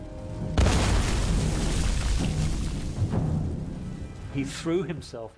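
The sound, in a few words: hand grenade explosion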